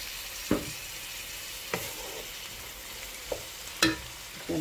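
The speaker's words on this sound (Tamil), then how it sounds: "வெங்காயம் நல்லா வதங்கிடுது" Onions sautéing in a pan, a soft steady sizzle heard close up with a few sharp clicks and taps of a spoon scattered across it, no voices.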